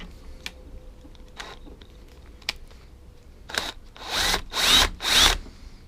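A power drill whirs in three short bursts near the end, after scattered clicks and taps in an otherwise quiet space.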